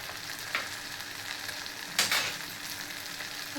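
Coriander seeds, peppercorns and cumin fry in a pan for sambar, a soft steady sizzle close by with two brief louder stirring scrapes.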